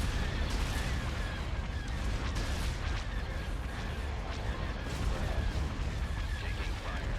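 Battle in the Star Wars: Empire at War game with the Thrawn's Revenge mod, a dense, continuous din of gunfire and laser cannon blasts with rapid bursts and booms.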